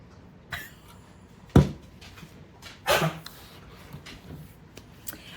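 A dog gives a few harsh hacking coughs and wheezy snorts, close by, separated by quiet pauses.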